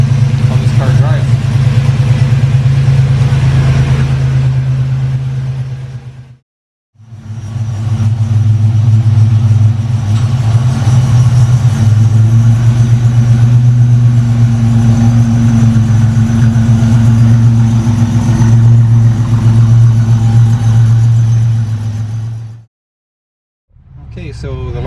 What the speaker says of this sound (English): We can go for a test drive with this thing. I'll show you guys how this car drives.